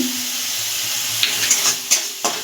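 Spice paste of ginger, garlic, chilli, cumin and turmeric with a little sugar being sautéed in oil for veg biryani, giving a steady close sizzle with a few sharp stirring scrapes and spatters near the end.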